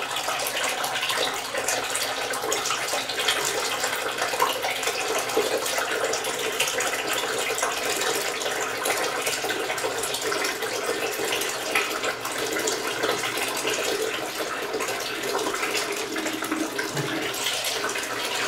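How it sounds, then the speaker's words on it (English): Cold tap water streams steadily over hair extensions as conditioner is rinsed out, a continuous hissing splash that stays even and fairly close for the whole stretch, with no talking. "So I'm going to use cold water to rinse the conditioner."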